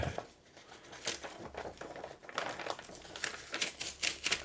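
Clear tape pulled and unrolled to reattach a comic book cover, giving close crinkly crackles and tearing rasps in uneven bursts.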